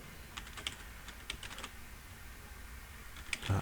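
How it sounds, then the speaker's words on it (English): Fingers tapping out a URL on a computer keyboard, quick clusters of light clicks with short pauses between them, close and fairly quiet. "go ahead and type in your URL"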